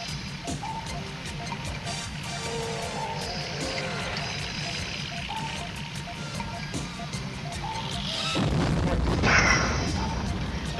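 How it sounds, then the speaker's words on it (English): Gunfire and explosions in the Action Max underwater shooting game Hydros, with steady low rumbling and scattered pops under a voice, then a louder roaring blast that swells near the end. "we're not just firing at robot fish and crustaceans"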